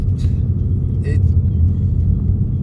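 A Ford Mustang GT running a Lund 93 tune drives along, its engine a steady, deep rumble close by while someone talks over it.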